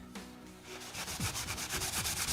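A Scotch-Brite pad scrubs a maple guitar fretboard wet with naphtha, a close, soft rhythmic rubbing that starts quietly and becomes a brisk series of back-and-forth strokes, with no talking.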